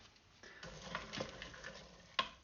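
Orange zest and ginger are stirred into a mixture, making soft, faint scraping and wet swishing strokes with a sharp clink near the end.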